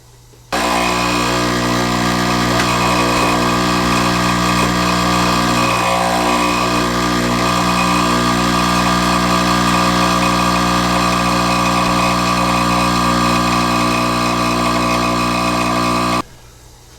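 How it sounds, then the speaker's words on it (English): An electric coffee grinder grinds coffee beans with a loud, steady motor whir that starts abruptly, holds an even pitch for about sixteen seconds, then cuts off, with no talking. "Let's grind and brew a cup of this coffee and see how it looks."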